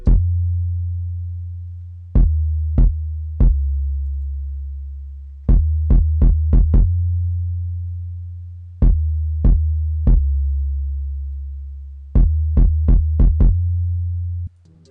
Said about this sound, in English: Yeah, and then I just had a kick pattern to follow it